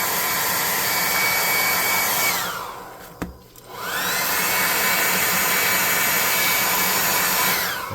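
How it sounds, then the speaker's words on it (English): A handheld hair dryer blows on a wet craft piece for a tabletop RPG cave entrance, roaring loud and close, cutting off briefly in the middle with a click, then whirring back up and running steadily. "we're going to hit this with a hair dryer so it'll start drying more quickly."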